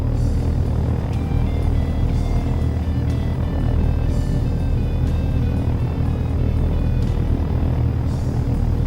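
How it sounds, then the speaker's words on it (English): Helicopter flight in the Take On Helicopters simulator game: a steady, loud rotor and engine drone with a constant low rumble and faint higher whining tones, holding level for the whole stretch with no talk. "I'll take back control of the helicopter."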